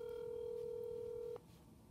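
A telephone used for a prank call gives out a steady electronic tone that holds for over a second and then cuts off abruptly, leaving only a quiet line.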